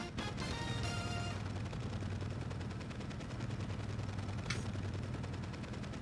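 In a Mario Kart 8 Deluxe race, rapid booming cannon-like blasts fire in quick succession, tonal game sounds and a bright burst ringing over a dense, steady stream of low percussive bangs.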